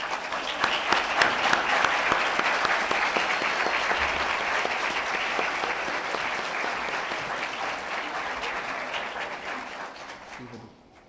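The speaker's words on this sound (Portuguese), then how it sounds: "a gente bater uma salva de palmas para quem já está participando dessa reativação" Seminar audience applauding together in a hall, a sustained burst of clapping that holds steady for several seconds and then fades out at the end.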